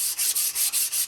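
Wood is hand sanded with 240 grit sandpaper in quick, even back-and-forth strokes, about five rhythmic rasping passes close up with no voices.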